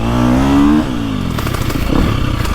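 A 2025 KTM 350XCF Factory Edition dirt bike engine revs up loudly and close, its pitch rising before dropping into a rough, clattering idle with mechanical rattle.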